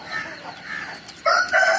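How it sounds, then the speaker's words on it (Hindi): A six-month-old Aseel fighting rooster being reared for combat crows in a short, strained call that rises into a louder, harsh final note, close and clear. "लड़ाई वाला मुर्गा, ये अभी तैयार हो रहा है।"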